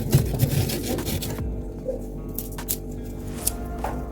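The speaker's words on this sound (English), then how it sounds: "We'll start by peeling the yam. We're going to peel off the back of the yam." A knife scrapes and rubs against the tough skin of a yam in a kitchen, close rasping strokes at first, then softer scattered scraping and small ticks.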